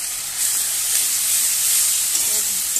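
Spice paste of cumin, garlic and chilli hits hot oil with two dried red chillies, giving a loud steady hiss of sizzling from start to finish as a fish curry is cooked.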